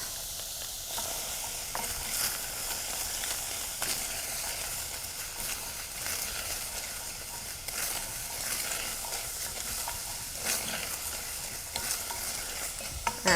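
Garlic added to onion in a hot pan for a vegan Mexican dish gives a steady sizzle and frying hiss, broken by frequent scraping stirs of a utensil against the pan, close and continuous.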